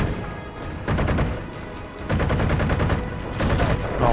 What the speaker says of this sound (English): Assault rifle time.